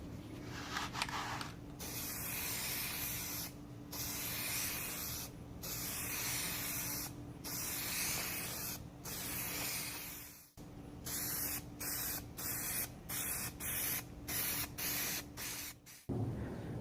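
Plasti Dip is sprayed onto a grill in a slow, even second coat: a steady aerosol hiss in bursts of a second or two, broken by short pauses, growing more clipped and rapid toward the end.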